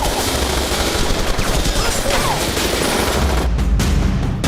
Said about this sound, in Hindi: यूं तो ये फिल्मी शॉट है, मगर हत्या के लिए AK-47 की तड़तड़ाहट आम हो गई।